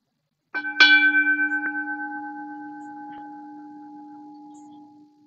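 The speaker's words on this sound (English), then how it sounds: "So I'll begin the practice with a couple of quick gong strikes" A gong struck to open a meditation or healing practice gives one bright hit followed by a pure, sustained ringing tone that slowly fades over about four seconds, heard alone in quiet.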